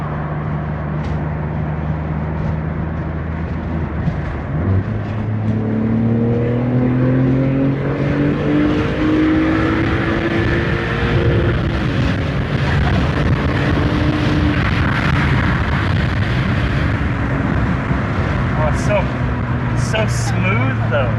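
A BMW M3 with an aftermarket exhaust cruises along at highway speed, its engine droning steadily with rising and falling tones as it accelerates and shifts, loud and close from inside the cabin.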